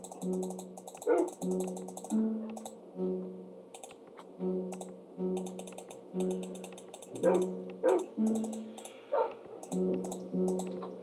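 Dog in a Minecraft game giving a run of short repeated yips and barks at fairly regular intervals, quiet, over faint tonal game sounds and clicking.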